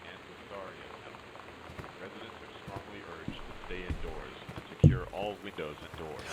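Steady rain patters across a surface in the video game Gone Home, a soft continuous wash that runs under a person talking, with a brief louder bump near the end.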